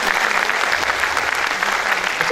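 A large festival audience at IFFI Goa applauds a conversation session with David Dhawan and Varun Dhawan, with dense, loud, steady clapping that fills the space throughout without a break.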